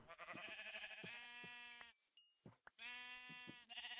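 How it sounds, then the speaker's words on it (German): Sheep in Minecraft bleating in two clear bursts of the game's wavering baa with a short gap between them, close and loud with no talking. "Hier sind Schafe."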